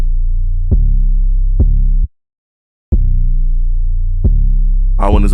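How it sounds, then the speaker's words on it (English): Deep, booming 808 bass notes from a Mini Racks drum kit sustain loudly with sharp attacks marking each new hit, one brief gap of silence between them, and a brighter noisy burst arriving at the very end. "They got this Mini Racks 808."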